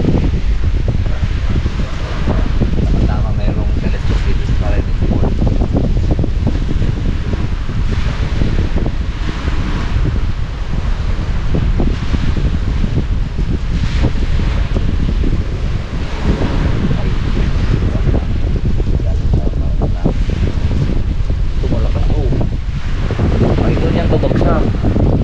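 Strong wind at sea near floating tilapia and milkfish pens batters the microphone in a loud, unbroken roar and rumble that lasts the whole time, with no clear break or calm.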